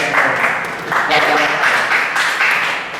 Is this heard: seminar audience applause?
yes